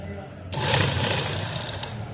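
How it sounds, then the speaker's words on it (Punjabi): A sewing machine starts up and stitches around the belt of a salwar, a loud steady rapid whirring run close by after a short quiet moment. "ਇਹਦੇ ਆਲੇ ਦਾਲੇ ਸਲਾਈ ਲਾ ਦੇਣੀ ਹੈ"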